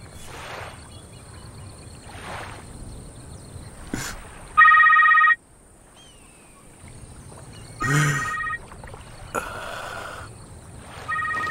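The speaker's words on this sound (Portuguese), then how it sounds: "Atenda o telefone, Jake" Telephone ringing in a dubbed 2018 film, sounding as loud electronic ring bursts that repeat at irregular intervals over a quiet background with soft rustling.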